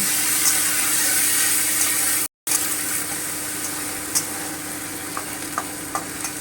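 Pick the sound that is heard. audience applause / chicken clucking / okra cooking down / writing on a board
okra cooking down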